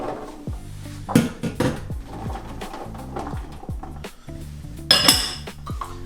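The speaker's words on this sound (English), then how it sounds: "Toss everything onto your big sheet pan." Ingredients for sheet-pan gnocchi are tossed onto a big metal sheet pan, making a string of bright clinks and clatters, then a louder metallic rattle near the end, with no talk.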